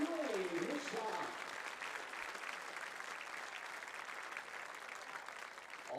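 Faint, distant crowd applause in a large venue at a high school football game event, a broad steady wash of clapping with a brief voice over a loudspeaker at the start.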